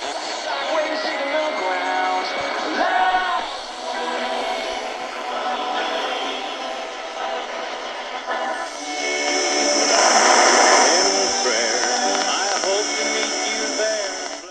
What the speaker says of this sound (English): Country station there on 650.